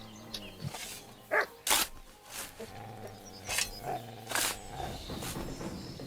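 Wolves howling in the video game Kingdom Come: Deliverance II, several rising calls spaced over a few seconds over a low game ambience, with no talking.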